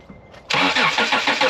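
An Acura TL Type S engine cranks briefly after a quiet moment, then catches and settles into a loud, close idle with a rhythmic pulsing.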